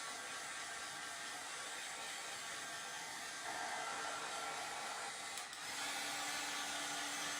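A heat dryer blows steadily and loudly at close range, drying craft transfers, its broadband whoosh unbroken throughout with a slight shift in tone partway through.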